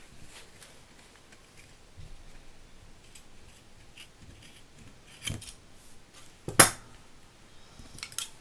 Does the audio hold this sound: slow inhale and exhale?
no